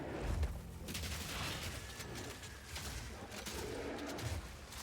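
Crossbow frag rounds fired in Path of Exile 2, a dense, fairly faint rattle of rapid shots and bursts with a few louder low thumps, continuing steadily throughout.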